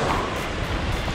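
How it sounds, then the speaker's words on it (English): Ocean surf breaks against the shore in a constant broad wash of noise, with wind blowing over it and no clear separate wave crashes. "Where's the breakers? Where the waves are."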